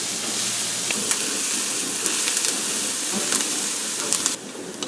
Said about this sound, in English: I'm going to saute those down for about 3 minutes and get a nice softness and a nice color on them